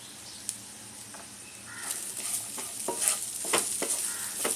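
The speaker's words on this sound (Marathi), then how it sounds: "आपली मटर आता चांगली फ्राय झाली आहे" Green peas frying in a pan as a stuffing for matar puri: a steady low sizzle with scraping stirs that grow louder and more frequent toward the end, close up.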